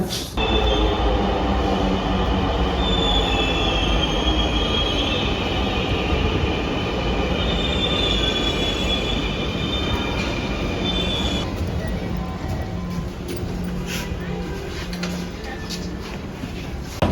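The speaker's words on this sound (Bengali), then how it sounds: "আমি মেট্রো থেকে মাত্র নামলাম" A metro train rumbles steadily throughout with a constant broadband roar and high metallic squeal, quieting slightly toward the end; faint voices sit under the noise.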